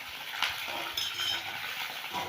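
Raw potato pieces frying in hot oil in a pan for sabudana khichdi, a steady continuous sizzle with a few soft utensil clinks, no talking.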